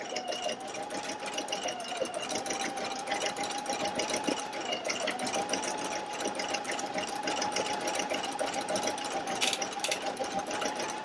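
A Pfaff Creative Icon 2 embroidery machine stitches out a color in a steady, continuous mechanical whir with fast needle chatter, close and loud, running alone without pauses for the whole stretch.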